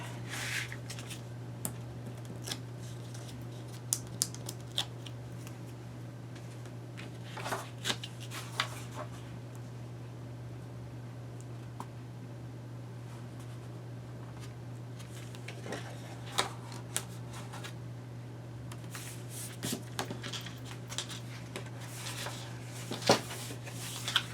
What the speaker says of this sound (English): then I'm going to remove the tape